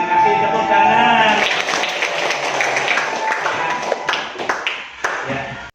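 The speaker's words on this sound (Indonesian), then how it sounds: "terima kasih, tepuk tangan" Applause from teachers and pupils at a school session on positive culture, loud clapping mixed with voices and crowd noise, tapering off toward the end.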